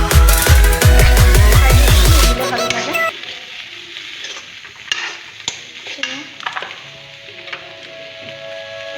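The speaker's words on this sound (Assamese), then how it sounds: "ভাজিছোঁ মানে যেতিয়ালৈকে ইয়াৰ পানীটো নাযায়" Grated carrots for carrot halwa sizzle and fry in a pan while being stirred, starting with a loud clattering burst, then settling into a softer, steady crackle close to the microphone.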